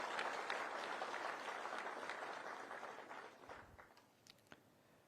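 Audience applause fills a police sub-inspector appointment ceremony in Gujarat, a dense sustained clapping that gradually thins and fades over five seconds, ending in a few scattered claps.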